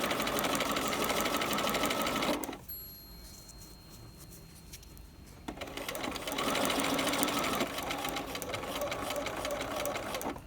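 A sewing machine stitches a piping seam at a 3.0 stitch length, a fast, steady mechanical whir close by that stops briefly for a few seconds and then runs again, with no talk.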